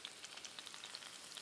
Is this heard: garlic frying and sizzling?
yes